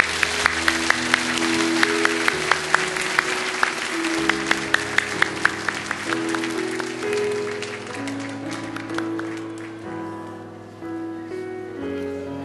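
Church congregation giving warm applause during a worship service, sustained clapping from many hands over held sustained tones that fades toward the end.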